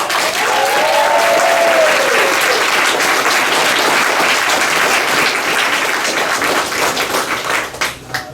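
Crowd at a 2019 high school graduation ceremony bursts into sustained applause and cheering for the graduates' families, a dense, loud wash of clapping that holds steady for about eight seconds before tapering off.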